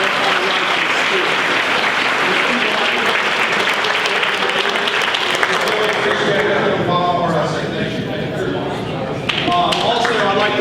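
A crowd applauds for a man honored at a sports event for his lifelong dedication, dense continuous clapping filling the room, loud and sustained, easing slightly near the end before picking back up.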